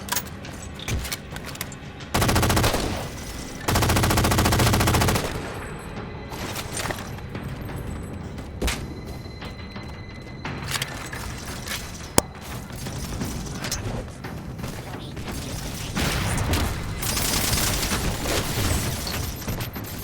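Gunfire from a weapon in Halo 4, sounding as bursts of shots with loud sustained volleys near the start and repeated firing throughout amid game effects and noise.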